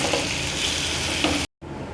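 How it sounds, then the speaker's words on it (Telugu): Onions frying on high flame in a kadai, a dense steady sizzle that runs close and loud, with a few stir scrapes, then a brief cut to near silence before the sizzle resumes more quietly. "ఒక్క నిమిషం హై ఫ్లేమ్లో పెట్టేసి ఉల్లిపాయలని వేయించేసుకుందాం"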